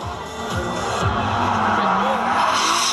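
Drift cars on a warm-up lap at Nissan Plant Sunderland during a JDM twin-battle round, engines droning steadily with rising revs and faint tyre noise, under continuous commentary from an announcer.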